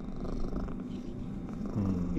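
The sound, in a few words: cat making gurgling purr sound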